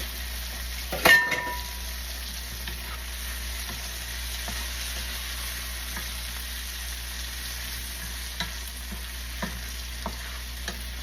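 Garlic fries in a pan for rasta pasta with a steady, quiet sizzle. A sharp metallic clank of utensil on pan comes near the start, and soft scattered taps follow.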